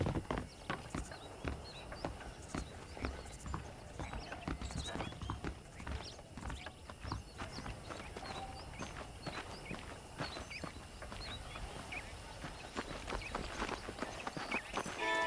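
Horse hooves clip-clopping at a walk in the Red Dead Redemption video game, a continuous, steady rhythm of close hoofbeats over outdoor ambience, with no talking.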